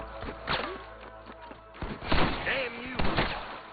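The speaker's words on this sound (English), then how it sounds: "I can hear more gunshots." Gunfire in the Western video game Red Dead Redemption: a few sharp, booming shots spaced out over a few seconds, mixed with in-game voices and ambient sound.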